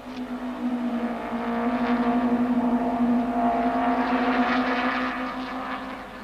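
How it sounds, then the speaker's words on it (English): Onboard engine of the Mike White Minolta Toyota Camry super touring car racing at Kyalami in 1995: a steady, loud, droning engine note that swells slightly mid-lap and holds without pause, no voices. "Now race cam action from the Mike White Minolta Toyota Camry."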